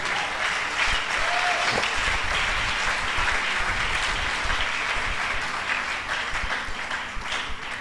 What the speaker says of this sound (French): Mettez-vous et acclamons pour le Seigneur.